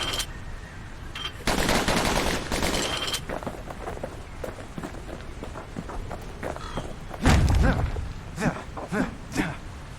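Rapid pistol fire from a pair of handguns in the Bastion video game, loud bursts of shots in clusters with a heavy impact partway through and scattered single shots after.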